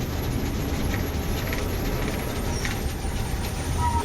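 Busy ambience at Wakdewadi bus stand in Shivajinagar, with a steady low rumble of idling and moving buses, faint traffic noise and brief higher hisses, continuous and fairly distant.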